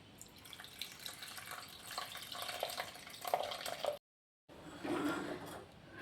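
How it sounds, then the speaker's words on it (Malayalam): Water is poured into a pot of drumstick-leaf sambar, a soft, close splashing trickle that rises and falls, cuts out for a moment, then resumes more steadily. "നമുക്ക് കുറച്ച് വെള്ളം ചേർക്കാം"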